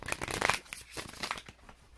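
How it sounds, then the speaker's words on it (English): A deck of tarot-style reading cards is shuffled by hand, a close run of crisp riffling and papery slaps that fades toward the end, with no voices. "I'll be finished shuffling for you"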